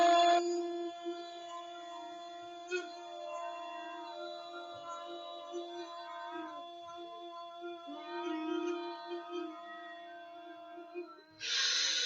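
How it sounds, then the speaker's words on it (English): Several people breathe out while humming together in a guided children's breathing exercise, a steady sustained hum with a few breaks for breaths, moderately loud and unaccompanied by speech. "Breathing out with a humming sound."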